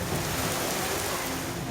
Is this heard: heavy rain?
yes